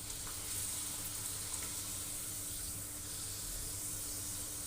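Papad fries in hot oil, a steady soft sizzling hiss that stays even and fairly faint throughout with no talking.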